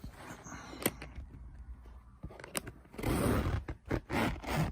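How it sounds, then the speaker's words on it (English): The stiff zip on a Beats by Dre headphone case is pulled open in short rasping bursts, close up, growing louder and more continuous toward the end. "The zip is very awkward to open, I think."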